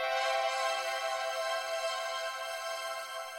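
Synth chord drenched in Finisher Micro shimmer and a big reverb, a bright sustained wash of high, glassy overtones holding steady and fading slightly, heard alone at moderate level.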